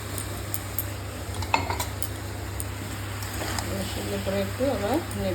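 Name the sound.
stirring lau-chingri (bottle gourd and prawn) in a pan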